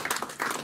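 A church congregation breaks into applause, a brief, dense burst of many hands clapping at moderate distance with steady intensity throughout.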